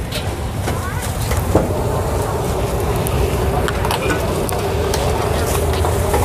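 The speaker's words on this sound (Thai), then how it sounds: "ผัดกันที2กระทะใหญ่ๆ" Steady, loud sizzling and scraping of food being stir-fried in two big woks at a Thai rad na restaurant, with a constant busy hiss throughout.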